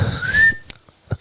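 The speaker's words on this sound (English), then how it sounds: "I'll go on my first whistle." A sharp rising whistle blast opens a quiz round, loud and sustained for about half a second, followed by a couple of faint short sounds.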